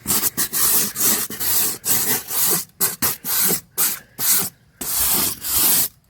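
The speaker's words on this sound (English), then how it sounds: "Give everything a good rub." A stiff brush scrubs over the weathered wood of a lakeside cabin in loud, rhythmic rasping strokes. The bursts come in close succession with short gaps between them, and no one speaks.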